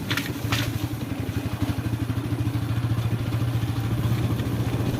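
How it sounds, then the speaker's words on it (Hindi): A motorcycle rides along a rough, rain-damaged rural road, its engine thrumming steadily up close with a rapid pulsing beat and rattly clatter from the bumpy surface, and no talk. "ये देखो हम बाइक से जा रहे हैं अभी।"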